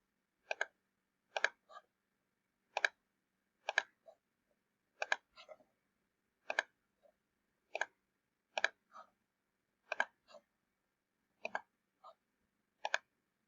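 Crisp mouse clicks sound close and isolated in a quiet room, mostly in quick double pairs spaced about a second apart, with occasional lighter single clicks between them.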